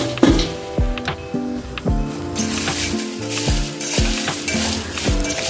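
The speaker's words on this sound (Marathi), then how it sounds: "अशा सगळ्या मिरच्या आपण भाजून घेणार आहोत" Red chillies roast in a little oil with salt, a moderate sizzle with repeated ringing clinks and scrapes of a spatula turning them in the pan, close by and without voices.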